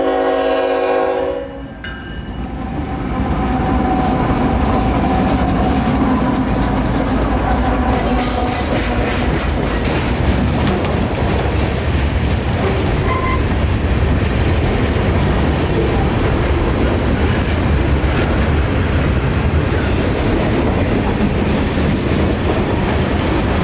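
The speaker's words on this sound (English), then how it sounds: "Q60328, inbound mixed freight to Winston Yard from Waycross, Georgia." A mixed freight train rolls past trackside in Florida, loud and close, with a continuous roar of wheels and rattling cars that persists after a brief opening horn blast.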